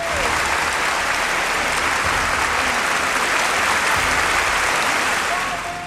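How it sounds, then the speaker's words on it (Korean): A prolonged standing ovation for Charlie Chaplin at an awards ceremony, a dense, continuous roar of applause from a large crowd, loud and unbroken, with faint voices mixed into the wash. "대중들에게 사랑받은 최고의 영화인을 향한 기립박수는 12분 동안 멈추지 않았습니다."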